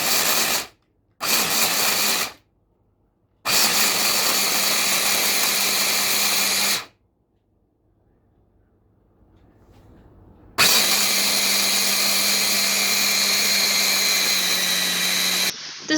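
A Moulinex Steelforce DD883D10 hand blender grinds hazelnuts, dates and cocoa in loud, harsh motor bursts, first two short runs, then longer stretches separated by quiet pauses.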